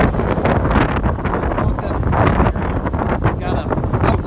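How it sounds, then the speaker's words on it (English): Strong wind buffets the microphone on a ferry crossing, a loud, continuous rumbling roar with gusty bursts, and people talk over it. "Man, it is stinking windy."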